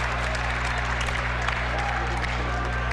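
Crowd applauding at a KW Titans basketball game against the London Lightning in Kitchener, a steady wash of clapping over a low electrical hum, with talking mixed in.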